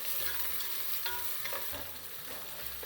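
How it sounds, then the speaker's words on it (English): Onions and green chilies fry in a pan, giving a steady close sizzle with a few scraping stirs and no voices. "now you let the onions fry till they're nice and golden brown"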